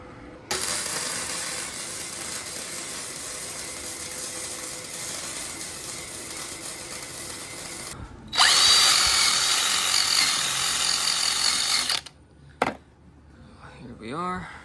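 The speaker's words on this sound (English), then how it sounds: "So let's get this guy welded up." Welding a homemade exhaust pipe for a Honda Acty, heard as two long steady crackling buzzes separated by a short pause, then a brief knock and quiet handling sounds.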